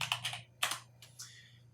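Several crisp, close keystrokes on a computer keyboard while entering a word into a spreadsheet cell, spaced in small clusters over quiet room tone.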